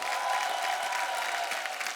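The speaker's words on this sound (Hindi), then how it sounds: "एक बार फरा मैम और रवीना जी के लिए जोरदार तालियां" Audience applause for Farah and Raveena on a comedy talk show stage, a steady wash of clapping with some crowd noise, fairly distant and even throughout.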